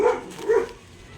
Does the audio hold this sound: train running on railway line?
no